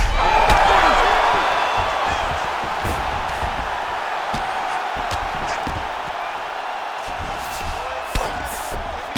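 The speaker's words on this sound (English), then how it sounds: "looked like that strike from the bottom fighter got the crowd's attention" Arena crowd in the UFC 5 fighting video game roaring in reaction to a strike from the fighter on the bottom during ground fighting, a loud swell of cheering that peaks early and then settles into a steady murmur with scattered thuds.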